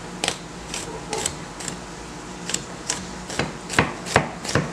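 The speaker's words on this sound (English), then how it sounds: "so now I'm gonna chop this up" A knife chops garlic on a cutting board in irregular sharp taps, sparse at first and then quicker and louder toward the end, close and alone without talk.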